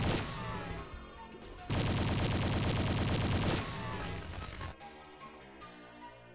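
Rapid sustained gunfire from the Inferno weapon in Doom: Project Brutality, a dense loud burst lasting a couple of seconds, with shorter bursts before and after over game music.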